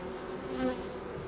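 Honey bees from a young queen's restless swarm buzz around a hive entrance in a steady, close, continuous drone with slight swells in loudness.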